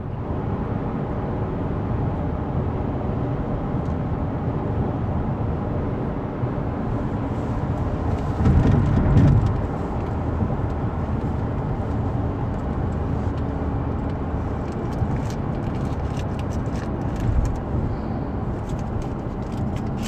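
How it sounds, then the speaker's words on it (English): A steady, dense rumble of road traffic, with vehicles crowding toward a Bulls game, continues without letup at a moderate distance and swells briefly partway through. "I'm gonna be stuck in all this traffic."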